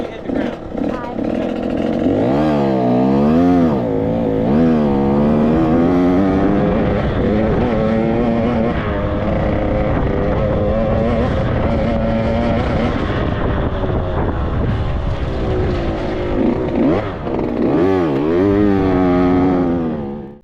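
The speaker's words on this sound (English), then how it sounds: "that thing wide open until you hear the rev limiter before you hit the ground" A motocross dirt bike engine is held wide open at the Robbie Smith track, its loud buzzing whine rising and falling in pitch with repeated sweeps up toward the rev limiter, then dropping away at the end.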